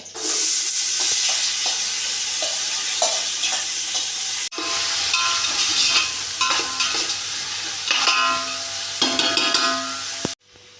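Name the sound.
onions frying in oil with spices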